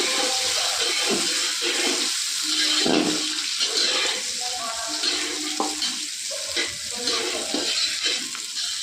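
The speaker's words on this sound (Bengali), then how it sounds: "এই যে গাজর, এটাকে ভেজে লাল করে নিই।" Capsicum, beans and carrot fry in hot oil with a loud, continuous close sizzle, broken by the scrape and clatter of stirring throughout.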